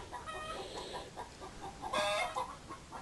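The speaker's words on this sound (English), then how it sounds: "Another hen telling us how she did things." A hen clucks repeatedly in soft, irregular bursts with a louder squawk near the end, moderately close in a quiet workshop setting.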